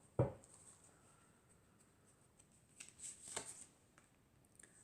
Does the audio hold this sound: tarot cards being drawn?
yes